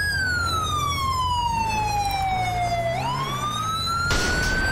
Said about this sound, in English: That siren sounds sick, fair play.